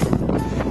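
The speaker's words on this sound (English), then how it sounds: "Very windy up here" Strong wind buffeting the microphone on a Lake District fell summit in a low, continuous rumble, loud and close, with no other sounds standing out.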